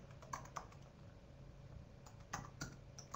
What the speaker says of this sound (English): I will just type that.